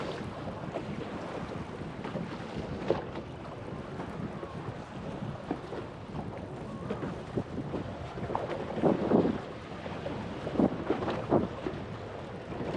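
Wind and waves buffet a fishing boat on Lake of the Woods, a steady broadband roar with uneven surges and splashes running throughout, loudest toward the end.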